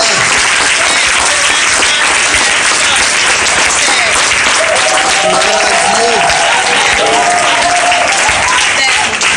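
A church congregation applauds and cheers loudly throughout, a dense continuous roar of clapping with voices rising beneath it.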